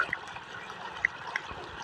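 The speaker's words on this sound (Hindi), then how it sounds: "पानी दे रहा है काई में दे रहा पानी" A child pours water over plants in a farm setting, giving a steady splashing trickle with a few brighter drips, heard close and continuous throughout.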